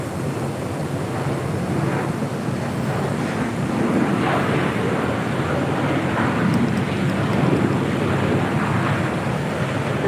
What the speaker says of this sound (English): We do have the Aeromexico 787-9 Dreamliner heading back to Mexico City, flight 647, number 2 for departure here on the south side.